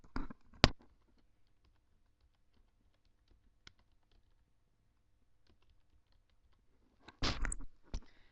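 Commands typed on a computer keyboard during network switch configuration: a few isolated clicks, then a short, close burst of rapid keystrokes near the end, in an otherwise quiet room.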